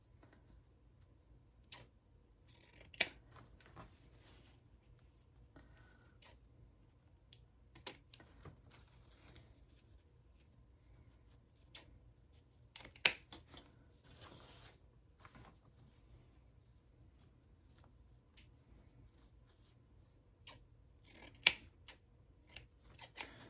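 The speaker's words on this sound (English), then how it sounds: "we're going to dovetail all of the ends of this ribbon." Scissors snip dovetail notches into the ends of a ribbon for a Christmas lantern swag: sparse, faint, crisp cuts spaced irregularly over a quiet background.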